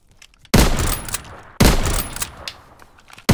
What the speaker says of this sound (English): your gunfire is so quick